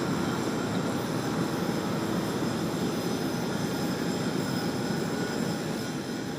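Jet aircraft engines roar steadily at Sydney Airport, a broad, continuous, distant rumble with no voices over it.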